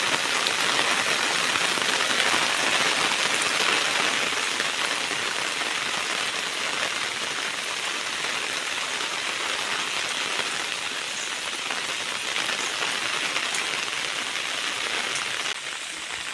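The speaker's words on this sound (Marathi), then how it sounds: "पाऊस काय थांबायचं नावच घेत नाही" Heavy monsoon rain pours down steadily over a creek, a dense, loud hiss of drops on surfaces that continues unbroken from start to finish.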